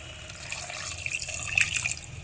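Water poured from a rinsed marinade bowl into chicken curry, a short, close splashing pour with a trickling stream that swells slightly toward the end.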